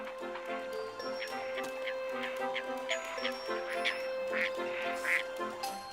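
Ducks on icy winter water quack repeatedly in a lively chorus, short nasal calls overlapping at a moderate distance over a steady tonal hum in the background, with no voices.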